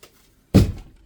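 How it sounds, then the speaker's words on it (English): An opening door knocks against the side of a desk indoors, one dull, close, hollow thunk after a quiet moment, fading quickly. "when she opens the door, it sort of hits the side of the desk"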